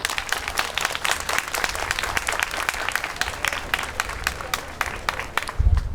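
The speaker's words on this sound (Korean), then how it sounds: "큰 박수로 시작하겠습니다" Crowd applause opening a memorial night for Lee Han-yeol, many people clapping in a lively, irregular patter that holds steady and close, then gives way to a low thump near the end.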